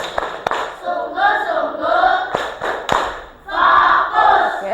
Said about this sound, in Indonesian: coba tepuk fokus